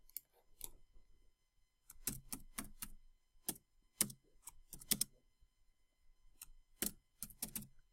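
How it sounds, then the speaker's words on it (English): Close, clattering keystrokes on a computer keyboard come in irregular bursts of several taps with short pauses between, crisp and fairly quiet, with no voices. "So I'm actually going to type right here"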